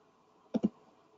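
Two quick keystrokes on a computer keyboard while a number is typed in, a close, crisp double click standing alone over a quiet room hum.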